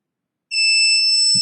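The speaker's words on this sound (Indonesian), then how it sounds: "Nah, ada bunyi buzzer." An electronic buzzer on an Internet of Things training board sounds after a button press, a steady piercing tone that starts abruptly and holds loud and close to the end, with a brief low knock at the finish.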